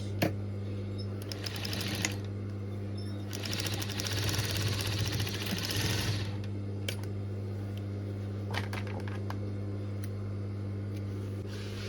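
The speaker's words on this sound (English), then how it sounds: "Then I'm going to sew 1/2 inch." A sewing machine runs steadily while stitching a half-inch seam on a fabric scrunchie, a close continuous mechanical whir with brief pauses and faster rattling passes.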